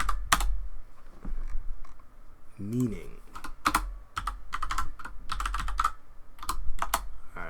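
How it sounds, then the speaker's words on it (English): Typing on a computer keyboard with one hand, irregular bursts of sharp close key clicks with pauses between, while a person speaks briefly. "I'm typing with one hand."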